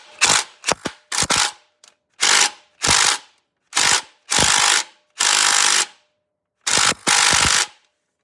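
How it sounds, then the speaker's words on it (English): Impact wrench loosening a bolt during an oil change on a 2006 Ford Fusion, firing in repeated loud, close rattling bursts of about half a second to a second each, separated by short pauses. "I'm gonna use my impact to take that off."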